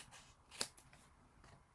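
Paper being cut for a scrapbook photo album, a few crisp snips close up with one sharp louder cut in the middle and softer rustles around it.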